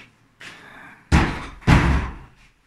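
A cupboard door being handled, with a faint scrape then two loud, close wooden knocks or thuds about half a second apart as it is opened, with no talk.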